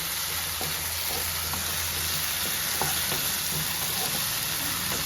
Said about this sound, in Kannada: ಸೊ ಟೊಮ್ಯಾಟೊ ಫ್ರೈ ಆಗಲಿ